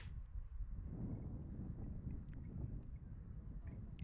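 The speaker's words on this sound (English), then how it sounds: "It is windy out here" Heavy wind buffets the microphone in a continuous low rumble at an outdoor softball game, with a few faint clicks in the background.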